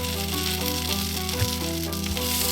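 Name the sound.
shallots sizzling while cooking in a pot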